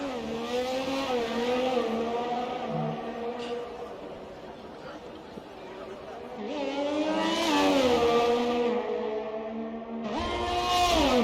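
Ferrari Formula 1 car on an out lap at Monaco in an F1 video game screams at high revs, its engine pitch rising and falling through gear changes, with a commentator talking over it.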